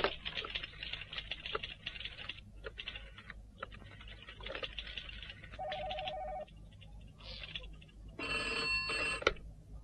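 Someone dials a telephone to make a call: quick tapping key presses, a short steady tone, then a louder burst of ringing tone near the end, close and clear.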